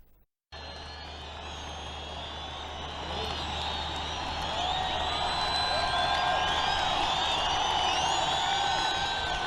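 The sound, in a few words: huge crowd cheering at inaugural ceremony, Masqal Square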